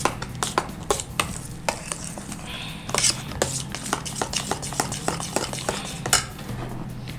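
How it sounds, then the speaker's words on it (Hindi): A spoon stirs an ice cream mixture in a bowl, giving a quick string of close, bright clinks and scrapes against the bowl at an uneven rhythm. "स्पून ले लेती हूँ मैं ये वाला, ठीक है। इससे हम इसे इस तरह से मिक्स करेंगे"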